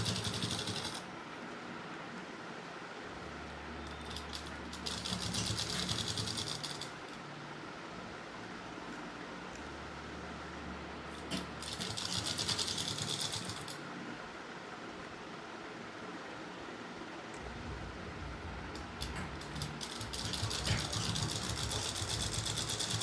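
A sewing machine double-stitches a pocket onto underwear, whirring steadily and fairly quietly across the span with several louder, higher-pitched stitching runs recurring at intervals, no talk.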